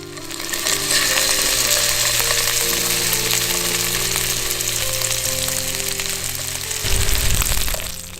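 Lamb chops sizzle and fry steadily in a hot pan, a loud continuous crackle over a low mechanical hum, with a brief rougher burst near the end.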